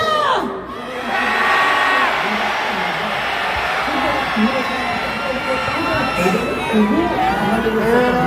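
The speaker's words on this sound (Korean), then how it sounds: "우리 분노의 함성 국회까지 들리도록 한번 질러봅시다" A large crowd at a candlelight impeachment rally on a main road near South Korea's National Assembly roars and shouts in anger, many voices massed into a loud, sustained bellow with rising whoops that barely dips.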